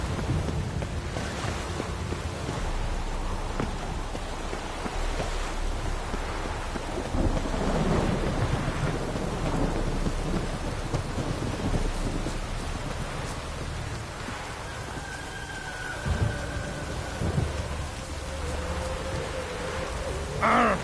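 Thunder and rain in the video game Witcher 3: a continuous downpour hiss with repeated deep rumbles of thunder swelling and fading, plus a faint tonal call near the end.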